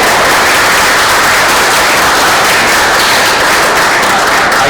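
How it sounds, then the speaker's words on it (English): An audience at a talk on the French and Indian War claps loudly and close up in dense, continuous applause after a presentation, with no pauses. "I would just like to ask everybody for another round of applause for a wonderful presentation."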